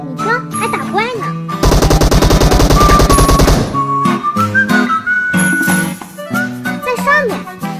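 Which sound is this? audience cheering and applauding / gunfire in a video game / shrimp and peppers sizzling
gunfire in a video game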